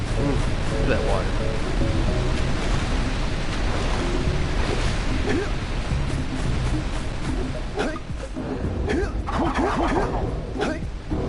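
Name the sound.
ocean water waves in the Jak and Daxter video game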